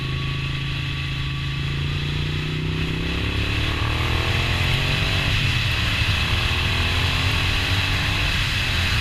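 A Moto Guzzi V9 demo motorcycle leans through a corner, its engine droning loud and steady with pitch sweeping up and down as the rider rolls the throttle, wrapped in constant wind rush.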